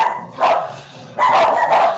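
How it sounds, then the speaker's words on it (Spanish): A dog barks twice in quick succession, loud and close, in the background of an online lecture. "Ladran Sancho."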